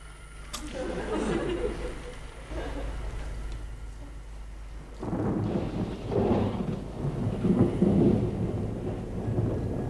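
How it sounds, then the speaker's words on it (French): Thunderstorm with low rolling thunder and steady rain, rumbling swells building in the second half, with faint chatter of people in the background. "L'orage, enfin le tonnerre."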